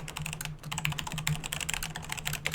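Fingers type on a computer keyboard in a steady, quick run of close, crisp keystrokes, with a faint low hum underneath and no talking.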